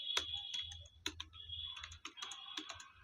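Someone types a short phrase on a computer keyboard, giving quiet, close, irregular key clicks in quick bursts, with no voice.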